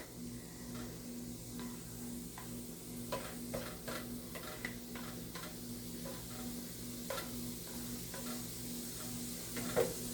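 Hash browns for a casserole sizzle steadily in a greasy pan while being pushed around its edge, with faint intermittent scrapes and taps of the spatula over the constant frying hiss, and no voices.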